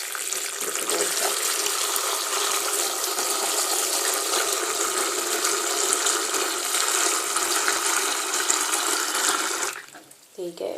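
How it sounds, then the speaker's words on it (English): Water runs steadily and loudly into a bowl for about ten seconds, a broad gushing rush that cuts off near the end, followed by brief faint handling sounds. "then just fill up your bowl"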